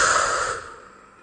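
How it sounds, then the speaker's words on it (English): A single forceful exhale pushes all the air out of the lungs, a breathy whoosh that starts strong and close, then tapers off over about a second. "We're going to blow out all the air forcefully out of our lungs."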